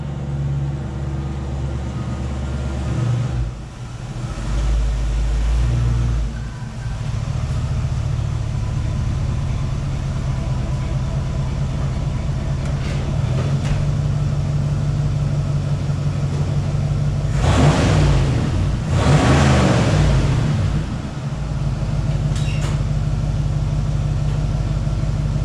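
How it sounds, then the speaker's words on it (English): A truck's engine idles and rumbles steadily as it drives into a garage, a continuous mid-pitched drone with a few louder surges and mechanical noise near the end, with no talk. "But it is time for the new vehicle to be pulled in."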